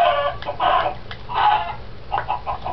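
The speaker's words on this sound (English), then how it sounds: "they look like ducks, but they're actually chickens" Minecraft chickens clucking in a video game, a few short bursts of bright, close clucks spaced across the moment with brief gaps between them.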